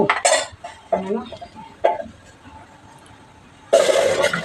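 Cooked food is scraped out of a frying pan into a cooking pot with a metal utensil: several sharp clanks and scrapes, a pause, then a sustained scraping at the end.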